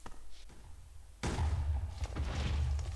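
A Minecraft RLcraft explosion blows up a level of a tall tower, starting suddenly after a quiet moment and rumbling on as a loud, sustained low boom.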